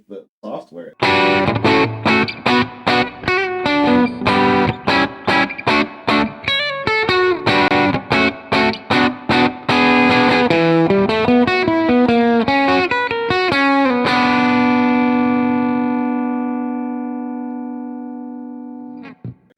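A gritty, overdriven electric guitar through an IK Multimedia ToneX picks a quick run of notes, then lets a final chord ring out and slowly fade.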